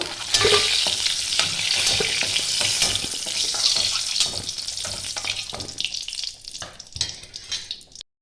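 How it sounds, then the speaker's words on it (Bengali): Potatoes fry in oil with salt and turmeric, a dense close sizzle running throughout, with stirring scrapes and clicks and a hint of running water in the background. "অল্প পরিমাণে হলুদ দিয়ে আমি একটু লাল লাল করে ভেজে নেব। আলুগুলো ভাজা হয়ে গেছে"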